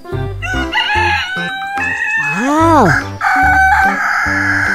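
A farm rooster crows loudly and close, one long rising-and-falling call over steady clucking and other fowl noise, with a brief exclamation from a person.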